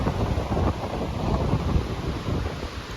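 Strong wind gusts buffet the microphone at Hell's Gate bridge, a loud, steady roaring rush with no voices, filling the whole stretch.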